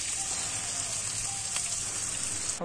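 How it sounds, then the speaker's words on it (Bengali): Chicken pieces hitting a hot kadai for chicken kosha, a steady loud hiss of frying that holds evenly, ending with a brief clatter. "কোঁড়াটা গরম হয়ে গেছে, এবার চিকেনটা কোঁড়ার মধ্যে আমরা দিয়ে নেব।"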